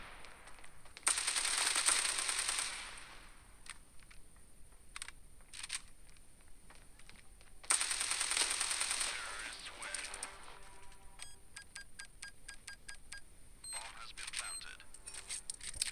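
M40 sniper rifle shots in the mobile shooter game Standoff 2 ring out as two sharp bursts with long ringing tails several seconds apart, followed by lighter clicks and reloading ticks, quiet overall.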